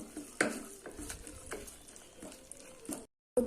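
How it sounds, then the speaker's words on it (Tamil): Quiet stirring of a tomato curry base in a pan: soft scrapes and taps over a faint sizzle, with no one speaking. "இப்போ இது ஒரு ரெண்டு நிமிஷம் பச்சை வாசனை போக வதக்கலாம்"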